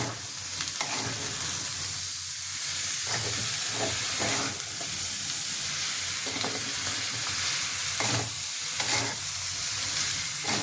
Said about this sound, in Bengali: আমি কিন্তু এগুলোকে ভালোভাবে মিশিয়ে নিচ্ছি।